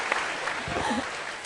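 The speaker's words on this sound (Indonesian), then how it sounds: "tepuk tangan dong" Studio audience applause on an Indonesian talk show set during a discussion of the 2014 presidential succession, a brief steady burst of clapping with voices murmuring through it.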